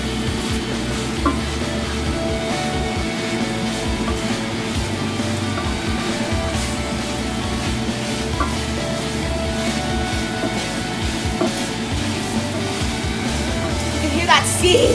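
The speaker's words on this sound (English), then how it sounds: "You can hear that sizzling." Meat frying for Mexican tacos gives a steady, dense sizzle throughout, with stirring and occasional utensil scrapes against the pan close by.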